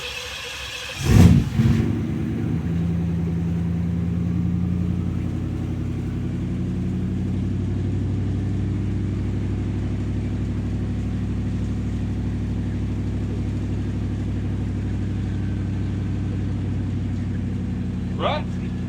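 A project car's engine cranks, catches with a sharp burst, then settles into a steady, fairly loud idle that runs on evenly for the rest of the clip, with a brief faint chirp near the end.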